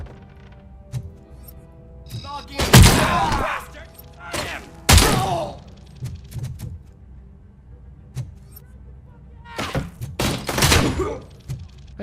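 Several heavy shotgun blasts in the game Robocop: Rogue City fire at irregular intervals, loud booming bursts with short decays over a low background rumble and scattered thuds.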